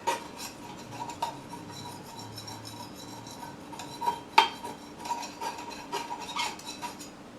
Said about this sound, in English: all I'm doing is just scraping all of that soot off the pot and onto the